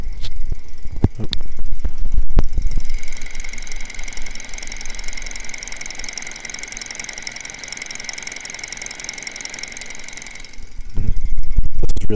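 A small Stirling engine drives a fan that spins slowly, giving a close, steady whirring hum with a high whine. Clicks and handling knocks come at the start and again near the end.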